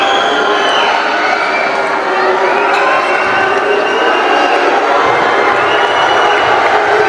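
Dense crowd noise fills an NBL finals basketball game between Tikas Kapampangan and Cam Sur, a steady roar of cheering, shouting and whoops sustained loud throughout with no break.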